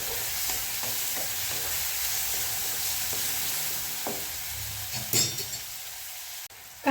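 Chopped onion and tomato sauté in a pan with a steady broadband sizzle, a few soft utensil clinks and scrapes, and a louder stir near the end.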